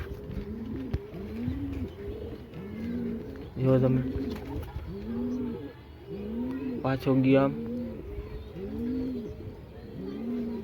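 Pigeons in a rooftop loft give a steady run of rolling coos, repeating every second or so close by, while someone talks over them in two short bursts.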